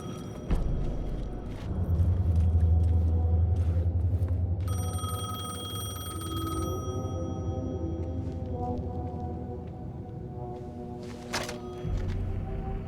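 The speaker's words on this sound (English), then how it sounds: "The payphone was ringing." A payphone rings in Alan Wake 2, repeated bell-like rings over a low dark ambient drone with sustained tonal hums, fairly close and clear, with no speech.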